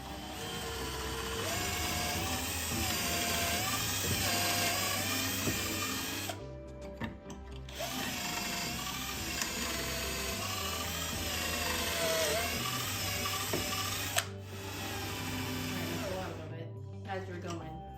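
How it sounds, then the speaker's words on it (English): A drill bores pocket holes through a Kreg jig for a simple chicken brooder, a loud whining motor in long sustained runs with two brief stops, while a voice talks over it. "now we get to use the Craig jig to make the pocket holes."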